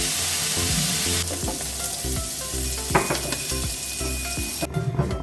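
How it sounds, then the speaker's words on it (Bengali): Bitter gourd sizzles steadily as it fries in oil in a pan for shukto, with occasional soft stirring scrapes and knocks close by, and no talking. "আমি একসাথে উচ্ছেটা ভেজে নিই।"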